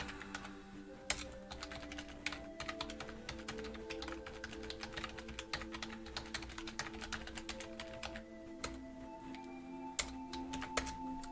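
Steady keyboard typing while entering code on a computer, with rapid uneven keystrokes continuing throughout, close and fairly quiet, with no talking.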